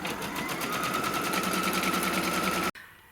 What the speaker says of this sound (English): So we're going to go ahead and stitch both of those off.